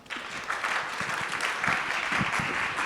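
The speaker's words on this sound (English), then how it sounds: "Can we put a round of applause together for Tanya?" A crowd applauds a speaker being welcomed to the stage at a Smart Cities Expo summit, steady, moderately loud clapping from many hands that continues evenly throughout.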